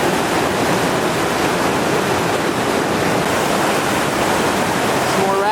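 Whitewater of a class 3 rapid on the Gauley River, Chainsaw Rapid at 2800 cfs, pours and splashes in a loud, steady, continuous roar that fills the whole stretch.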